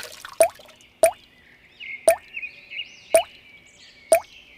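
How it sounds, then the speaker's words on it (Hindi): Water drips or plops into milk about five times at a steady one-second rhythm, each drop a short, distinct splash against a quiet background, with faint chirping in the background. "बुढ़िया दूध में और पानी मिलाने लग जाती है।"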